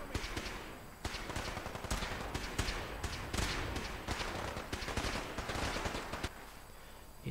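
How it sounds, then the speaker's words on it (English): Rapid bursts of automatic gunfire in the video game Fallout 4 during an Institute attack on the Castle, with dense, repeated shots over background game noise. "Opening fire."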